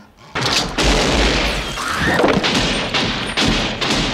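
Loud, dense gunfire and booming blasts from a firefight against a monster in the film Tremors, with sustained volleys and heavy thumps throughout.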